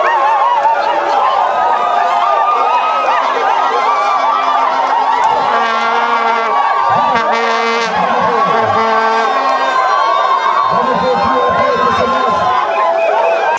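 Football supporters cheer and chatter loudly as a crowd after a victory at a festival sports day, with a dense, steady roar and some voices rising above the noise.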